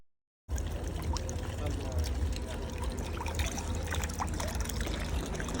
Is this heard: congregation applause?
no